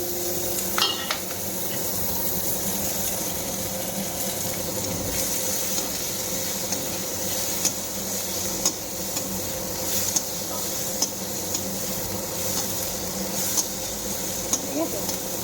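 Onions fry with black cumin seeds and two chilies in a pan for a spicy puti fish curry, giving a soft continuous sizzle with occasional stirring clinks, fairly quiet and close.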